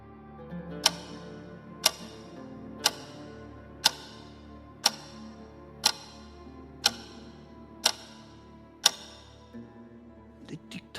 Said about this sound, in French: Les tic-tac que vous entendez